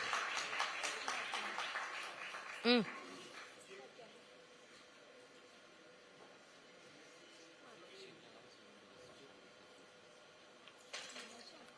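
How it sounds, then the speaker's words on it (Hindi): Applause from an audience at an award ceremony at a Lucknow conclave: a burst of clapping fills the first two seconds or so, then fades into a quieter room with faint voices. "एक बार जोरदार तालियां इस सम्मान के मौके पर भारत 24 के इस मंच से"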